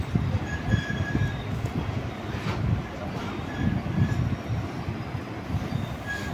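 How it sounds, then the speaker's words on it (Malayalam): Passenger train running after leaving Kollam Junction toward Alappuzha, heard from inside a sleeper-class coach: a steady low rumble of wheels and carriage noise throughout, with faint squeal tones above and no talk. "രാവിലെ 9:05 നമ്മുടെ കൊല്ലത്ത് നടക്കുന്ന ട്രെയിനിൽ നമ്മൾ യാത്ര ചെയ്തുകൊണ്ടിരിക്കുകയാണ്"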